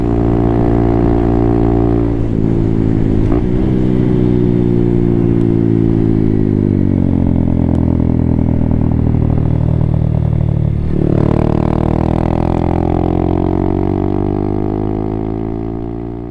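A Honda Grom motorcycle's small engine droning steadily at speed on a motorway, loud and close with wind rush, pitch shifting slightly as throttle changes; no talking.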